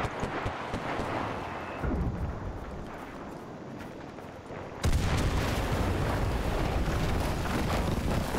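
Heavy explosions in the World War II shooter Enlisted as structures are blown apart, a loud rumbling burst that jumps sharply halfway through and keeps roaring with dense debris and blast noise, no talk.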